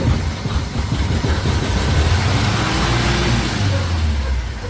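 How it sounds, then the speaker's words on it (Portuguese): A 1979 Chevrolet Caravan, running off a borrowed battery with a stuck throttle, idles loudly and revs high up close in a garage, a rough, steady engine roar swelling and easing without any speech. "Vamos ver se vai dar arranque, né? Dá uma bombada."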